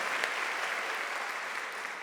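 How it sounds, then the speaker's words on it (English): An audience claps steadily at a live show in London, a dense, even wash of applause lasting the whole moment without a break. "Another round of applause, please."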